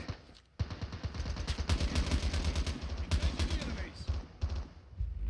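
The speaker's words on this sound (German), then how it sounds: "Beschossen." Gunfire in Call of Duty Mobile's Warzone mode: rapid, loud automatic fire rattles almost without pause after a brief quiet start, with a player's voice faintly under the shots.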